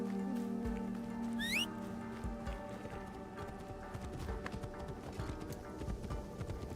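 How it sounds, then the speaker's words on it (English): Video game horse hooves in a rhythmic clip-clop at a steady gallop, with a brief rising whinny near the start over a low ambient hum. "As I sit here riding my demon horse."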